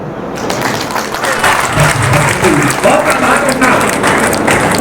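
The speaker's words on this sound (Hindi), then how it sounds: "एक बार आप सभी तालियां बजाइए।" An audience at a Hindi poetry gathering (kavi sammelan) in Unnao claps together, a loud, dense and sustained round of applause with some crowd murmur beneath it.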